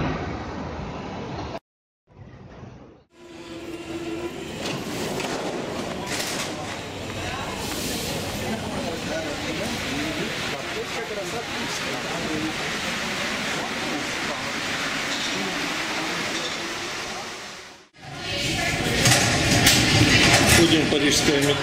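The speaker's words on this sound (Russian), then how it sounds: "Метро парижское – это тоже сам по себе аттракцион." A Paris metro train runs steadily for most of the stretch with a broad, hissing rumble, broken by brief gaps near the start and a louder surge toward the end.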